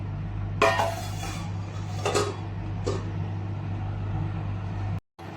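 A metal lid set on a pot of simmering fish curry with mango and grated coconut, heard as a few light clanks and scrapes spread over several seconds against a steady stove hum.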